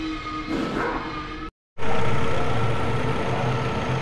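A 2016 Kia Cerato engine running after belt and compressor repair work, a steady close idle hum with a brief cut near the start before the drone resumes louder and continues evenly.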